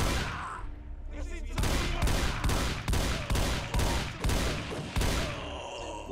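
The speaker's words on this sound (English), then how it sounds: "Why am I using the shotgun?" Shotgun gunfire in a video game, a loud run of about eight heavy blasts at regular intervals, close and dense, with a voice partly beneath it.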